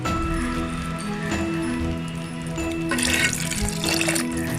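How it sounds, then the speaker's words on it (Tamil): Water pours into a pressure cooker holding mushrooms and rice for biryani, a steady splashing stream that swells louder toward the end, over faint background music. "அந்த 1 டம்ளர் அரிசிக்கு 2 டம்ளர் தண்ணி சேர்த்துக்கலாம்."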